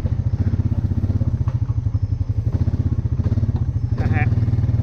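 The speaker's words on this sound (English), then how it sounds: "we took and tied the ladder behind his four-wheeler and dragging it with a bungee cord attached to it" Four-wheeler ATV engine chugging in a steady, loud rhythm while dragging a ladder on a bungee cord, with clattering thumps and scraping over the engine drone and a short squeak near the end.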